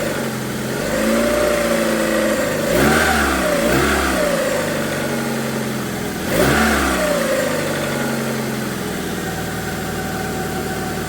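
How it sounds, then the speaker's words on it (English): Car engine idling steadily, then two sharp snap-throttle revs that flare up and quickly fall back to a smooth idle, heard close and loud after a misfire had cleared. "That was the first snap throttle."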